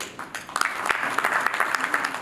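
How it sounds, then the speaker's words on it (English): An audience at the Pharma Ratna 2019 award ceremony claps steadily, a dense crackle of many hands that stays even throughout. "ladies and gentlemen, let's keep applauding."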